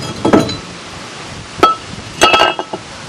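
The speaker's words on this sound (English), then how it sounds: "Nice thing about the front wheel drives, you should just pull the disc off" Metal clinks and knocks as a brake disc comes off a front-wheel-drive 1995 Pontiac: a few short, sharp, nearby taps in separate bursts, with quiet gaps between them.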